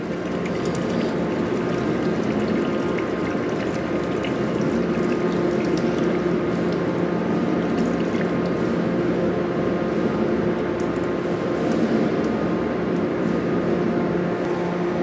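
A cooling tower pump motor running steadily with water flowing, a continuous loud mechanical hum and rushing water with a faint ratcheting texture, unchanged throughout and with no voices.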